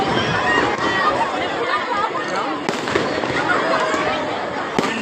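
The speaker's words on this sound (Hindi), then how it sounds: "ये आतिशबाजी का नजारा भी शुरू हो चुका है" Fireworks crackle and pop continuously at a Dussehra Ravan Dahan celebration in Jodhpur, with sharper bangs bursting through, as a crowd chatters in the background.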